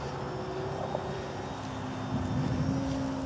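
An airplane passes overhead as a steady engine drone with a low tonal hum, swelling slightly louder toward the end, heard outdoors without speech.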